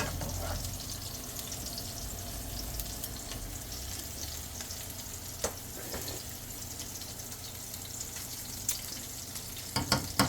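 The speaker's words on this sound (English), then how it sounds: "The sauce is still reducing." Wine reduction sauce simmering in a pan on lowered heat makes a steady, soft bubbling sizzle that runs without pause, with a few faint clicks near the end and no talking.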